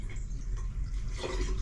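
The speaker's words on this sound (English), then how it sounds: "So let's pour a bit more water in." Water is poured into newly fitted plumbing joints on an off-grid farm, giving a steady close trickle and splashing with light dripping and no talk.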